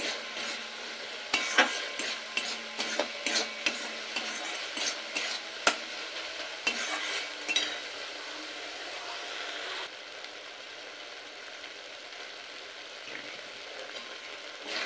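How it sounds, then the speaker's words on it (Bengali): Previously fried rice stir-fried in a pan for a Bengali rice and potol dish, a busy stretch of scraping and clattering strokes over a sizzle, then settling into a steadier, quieter frying hiss. "এবার চালটাও দিয়ে খুব ভালোভাবে কষিয়ে নেব।"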